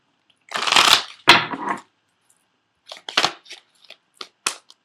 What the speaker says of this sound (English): I'm also going to pull 3 cards from the Doreen Virtue Romance Angel Oracle cards as well.